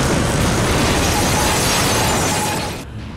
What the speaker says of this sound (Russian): в домике находились баллоны с газом, взрыв которых и привел к столь масштабным разрушениям.